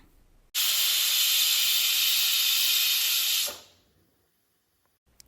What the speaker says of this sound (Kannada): ಇವಾಗ ಕುಕ್ಕರ್ ಎರಡು ವಿಷಲ್ ಹೊಡೆದಿದೆ